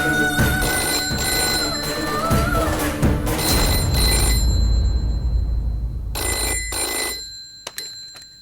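A telephone bell rings loudly in repeated bursts, a bright metallic trill that carries over a dense bed of background music, then stops and sounds again in short bursts near the end.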